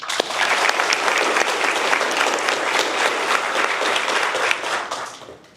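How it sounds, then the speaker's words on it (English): A graduation ceremony audience bursts into loud, sustained applause, a dense wash of many hands clapping that holds steady for several seconds before easing off slightly at the end. "you deserve a round of applause for that"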